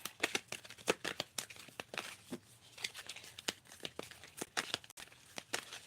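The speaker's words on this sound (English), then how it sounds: "let's start this shuffle back over again" Tarot cards are shuffled in a steady run of quick, crisp riffles and slaps, close and fairly quiet.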